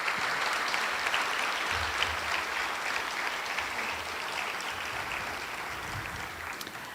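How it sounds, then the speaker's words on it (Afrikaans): An audience at a school prestige evening claps for a teacher, a dense, steady wash of applause that fills the room for the whole stretch and tapers slightly at the end. "Ek dink ons kan vir Juffrou De Tooy nog 'n keer hande klap"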